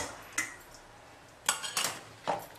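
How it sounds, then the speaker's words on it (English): A spoon scraping and clinking against a metal bowl while carrot and sprouts are stirred into paniyaram batter; a few short bursts, soft and close. "Now you can add the stuff, this one, the carrot, sprouts to this batter and mix well"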